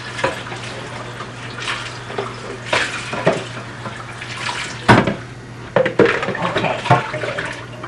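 Water from a sink tap splashing into and around a measuring container being rinsed in a kitchen, a close steady running stream broken by knocks and clinks of the container, no voices.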